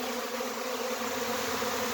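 A large honeybee swarm moving into a hive holding frames of honey makes a dense, steady droning buzz that stays close and unbroken throughout, with no voices.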